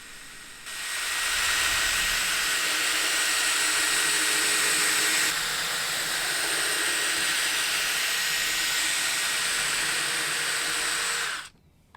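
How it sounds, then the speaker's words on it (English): A carpet extractor sucking dirt from car floor mats, a loud continuous roaring hiss of suction and spray held steadily for about eleven seconds before cutting off. "Onward the extractor it goes as it sucks up all of the dirt."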